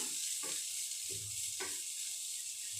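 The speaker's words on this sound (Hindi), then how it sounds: "इनको हमें 10 से 20 सेकंड के लिए सौटे कर लेना है।" Finely chopped ginger and green chillies sauté in a pan with a soft, steady sizzle, broken by several distinct stirring scrapes at regular intervals.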